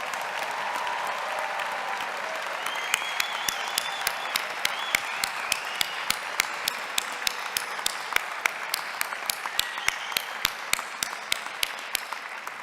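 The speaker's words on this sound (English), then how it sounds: "Graduates, please stand and let's give them a round of applause." A commencement audience applauds graduates in a steady, continuous wash of clapping from a large crowd, with a few sharper individual claps standing out near the front throughout.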